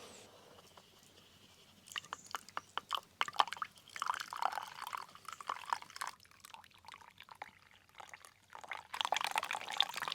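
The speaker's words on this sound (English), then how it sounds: "Okay, time to pour." Freshly brewed camp coffee being poured into a cup, a quiet trickling and splashing stream with scattered drips and clinks, close and fairly faint, growing fuller toward the end.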